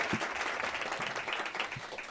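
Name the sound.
audience applause for performers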